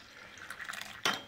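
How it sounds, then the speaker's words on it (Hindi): Plain water poured into a glass of pre-workout mix made with Glucon-D and black salt, a short close splash and pour that rises sharply near the end, with no talking. "और इसमें डाल दिए पानी,"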